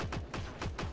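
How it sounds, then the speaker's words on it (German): Gunfire rattles in the online shooter game Heroes & Generals, four rapid, evenly spaced shots in a quick burst, fairly loud and close with no talking. "wir schießen den Typen da erstmal raus. Und knallen den auch noch weg."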